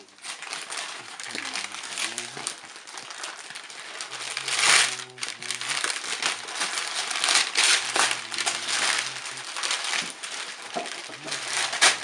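Wrapping paper on a present is crumpled and torn off in loud, continuous crackling and ripping bursts close by, with a voice briefly heard in between.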